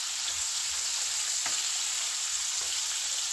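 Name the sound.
peppers frying and sizzling in a pan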